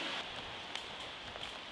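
Steady rain falls in a continuous hiss, with occasional sharper drops spattering on a nearby surface, no voices.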